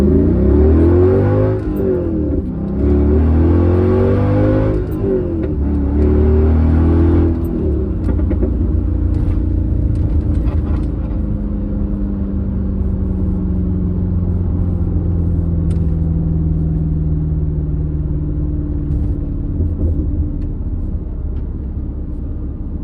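A manual-swapped Mercedes C55 AMG accelerates hard from a standstill. The engine note rises loud and close through the first gear, then settles into a long, steadily climbing rumble and whine as speed builds.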